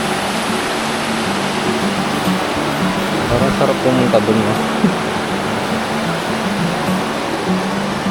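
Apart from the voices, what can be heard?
river water flowing, riverside camp ambience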